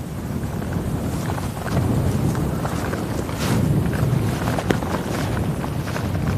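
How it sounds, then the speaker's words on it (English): Wind buffets the microphone on a coastal bike tour near Namyang, South Korea, a steady broadband rush that swells into stronger gusts midway, with no talking. "All of a sudden it's much windier though"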